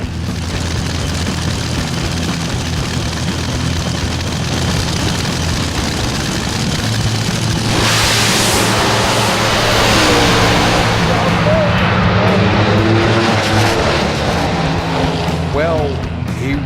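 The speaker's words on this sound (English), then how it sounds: "That was quite some drag race." Top fuel dragsters race down a Boise drag strip in the semi-finals, a steady heavy engine roar that swells sharply and loudly about halfway through and stays dense to the end.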